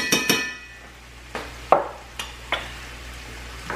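Minced garlic and onions frying in a cast iron skillet, a low sizzle broken by several sharp spoon taps and scrapes against the iron, close and fairly loud, with no talking.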